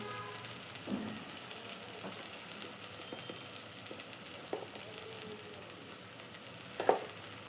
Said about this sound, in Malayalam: ഇതിലോട്ട് 2 table spoon Kashmiri chilli powder add ചെയ്ത് കൊടുക്കാം.